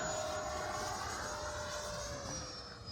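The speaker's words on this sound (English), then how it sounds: "64 millimeter EDF jet on that" A 64mm electric ducted fan RC jet from an AeroScout conversion kit flies past, a steady loud whining roar with a slowly falling pitch, heard alone without talk.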